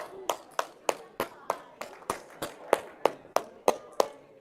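A workshop group claps together in a slow, steady unison rhythm, about a dozen sharp, evenly spaced claps, close and clear against a quiet room.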